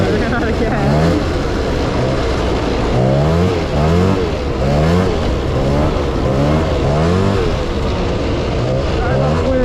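Continuous engine roar of a Polaris Scrambler quad ATV on a trail, revving up and down with wind buffeting the microphone.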